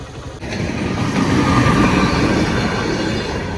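Train rolling past a closed railway crossing near Mavelikkara, Kerala, a loud, close, continuous rumble of wagons with wheel noise and faint squeal, building after a short pause and holding steady, with no talk.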